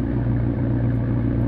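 Diesel-style bus engine idling in the mobile game Bus Simulator: Extreme Roads, a loud, steady low rumble with an even throb, heard alone and close throughout.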